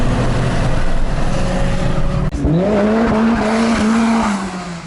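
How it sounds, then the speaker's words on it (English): A car performs a burnout, its engine roaring steadily before a sudden shift, then rising in pitch as the revs climb with tire squeal, loud and close throughout. "That's my burnout."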